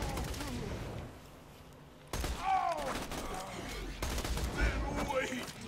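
Rapid gunfire from a weapon in the shooter video game Borderlands 2, with continuous loud bursts of shots across the clip and a short break before firing resumes.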